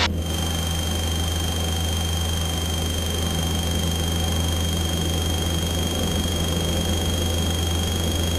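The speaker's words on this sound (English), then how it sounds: "Okay, throttled, RPM's over 2100, which is what we expect." A light aircraft engine runs at full throttle during a takeoff roll on a flight over Sydney Harbour, a loud, steady, unbroken drone with a constant high whine that holds for the whole stretch.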